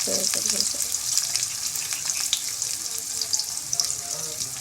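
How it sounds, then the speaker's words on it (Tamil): Onions frying in hot oil for chana masala, with a bright close sizzle that stays steady, plus a few stirring clatters near the start. "பார்த்திங்கன்னா அது நல்லா சூடாயிடுச்சுங்க. இப்போ வெங்காயம் போட்டுக்கலாம்."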